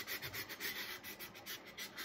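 A tumbler is hand sanded with 120 grit sandpaper in quick rhythmic back-and-forth strokes, a close, rough scratchy rubbing repeated about eight times in two seconds.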